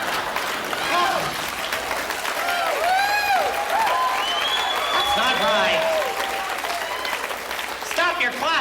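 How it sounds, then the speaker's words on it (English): An audience at a stand-up comedy show claps steadily, with scattered whistles and cheers rising over the applause and a voice speaking briefly. "Stop your clapping. That will just encourage him."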